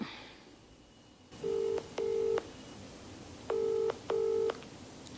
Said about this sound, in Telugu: విక్రమ్ కాల్ చేయనా